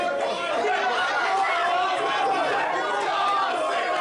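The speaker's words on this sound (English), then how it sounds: "Listen to that crowd." A wrestling event crowd roars and chatters in a continuous, loud wash of overlapping voices, with scattered shouts and laughter throughout.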